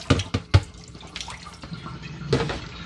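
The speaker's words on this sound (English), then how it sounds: "You just dump off your excess water." Water splashes and pours out of a holed tote of soaking sunflower microgreen seeds in a few quick bursts, followed by softer trickling and dripping.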